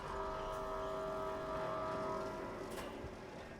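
A cable car moving along its line in the building game Foundation, a steady mechanical hum with sustained tonal whine, continuous and even throughout with no talking.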